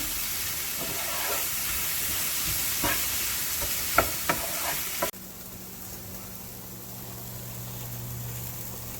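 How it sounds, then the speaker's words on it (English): Tomatoes, onions and spices frying in a pan for an Indian dish, giving a steady loud sizzle and hiss with a few clinks of stirring, then dropping abruptly to a quieter simmering hiss. "we're going to fry this up for about 5 minutes until our tomatoes start to break down"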